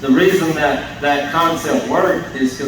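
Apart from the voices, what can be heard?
No distinct noise like a dog, phone or traffic.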